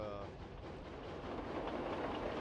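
Locomotive hauling a very long train in the video game Roblox, a faint continuous rumble of rolling rail noise with a brief tonal whine at the start, heard from a moderate distance.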